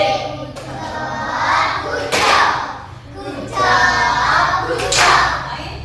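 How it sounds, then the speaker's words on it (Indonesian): Children in a classroom clap their hands together in bursts of group applause, close and fairly loud, with voices chattering in between. "tepuk tangan untuk kalian semuanya"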